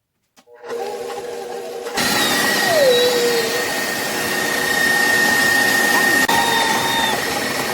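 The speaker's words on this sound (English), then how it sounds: "Using electric mixer, let's beat the butter until smooth." An electric hand mixer beats butter for cookie dough, switching on and holding a loud, steady whirring drone with slight changes in pitch as the beaters move through the bowl.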